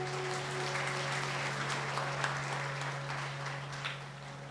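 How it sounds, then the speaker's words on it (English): Warm, steady applause from an audience at a Mahabharat yagna in a Hindu temple, continuous dense clapping over a constant low electrical hum, fading slightly toward the end. "Let's give them a wonderful round of applause again"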